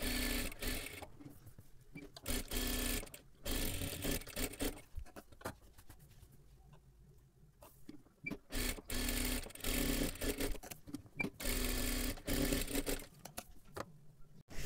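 Sewing machine running in bursts while stitching tucks on a simple four-tuck blouse, loud rattling runs stopping and starting several times, alone without talk.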